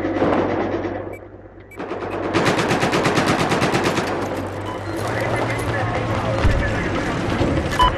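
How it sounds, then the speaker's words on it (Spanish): Machine gun fire in a Battlefield 4 match rattles in rapid, sustained bursts after a brief lull, loud and dense, with the rattle of other weapons mixed in. "Parece que hay un enemigo con una ametralladora al oeste de tu ubicación."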